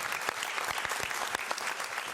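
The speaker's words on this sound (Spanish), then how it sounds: "Un aplauso para la paz." Plenary assembly of the Organization of American States applauding the end of the war in Colombia, a dense, even burst of clapping from a large room, steady and unbroken.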